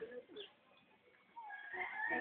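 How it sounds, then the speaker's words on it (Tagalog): Soft, distant chicken clucks come through a thin, muffled recording, with a voice faintly speaking in the background. "Ayan ang manok."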